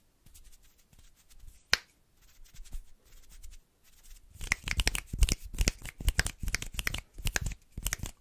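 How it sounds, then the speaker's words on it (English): A single sharp finger snap rings out alone amid soft rustles, followed by a dense run of quick crinkly tapping and shuffling sounds, close and intimate in a quiet ASMR setting. "When I snap my fingers,"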